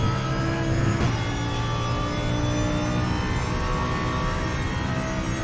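A race car in the RaceRoom racing game roars steadily with a continuous engine whine, a brief knock near the start and the pitch easing slightly as it brakes hard and trails left through a corner, loud and close with no talk.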